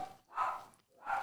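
A guard dog barks in two quick, overlapping bursts close by, each bark running into the next, with a short gap between them.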